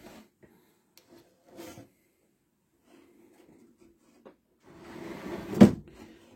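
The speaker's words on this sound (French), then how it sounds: "on va venir mettre le tiroir" A wooden drawer is slid into a homemade DIY workshop cart: scattered soft wood knocks and scrapes, then a longer rasping slide ending in a sharp close bump, close and moderately loud.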